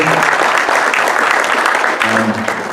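Steady audience applause at an annual meeting, honoring a retired general manager who served as interim manager, dense and continuous throughout with a faint murmur beneath.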